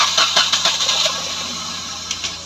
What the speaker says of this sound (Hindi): ये तो डीजल की तरह बोल रहा है इंजन।